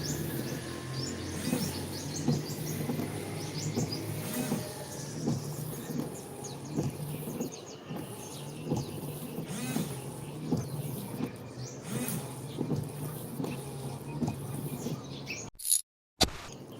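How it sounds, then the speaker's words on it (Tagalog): Windshield wipers on a 9th-generation (2001-2008) Toyota Corolla sweep with washer fluid, giving a steady rhythmic swish roughly every second with faint rubbery squeaks over a low hum, ending in a brief thump and near-silence. "Then we test the wiper if it's working well with the wiper fluid on it."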